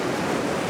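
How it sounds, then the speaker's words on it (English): Sea waves wash in over rocks on a coastline, a loud, dense, close roar of surf and wind with no voices. "it's giving me a bit of motion in the waves coming in over the rocks,"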